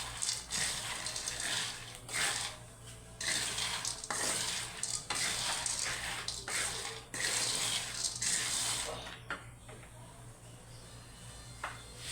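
Peanuts and corn fry in a pan while being stirred, scraping and rattling in repeated strokes over a steady sizzle, fairly close, with a faint low hum underneath.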